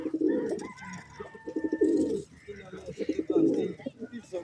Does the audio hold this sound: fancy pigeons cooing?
yes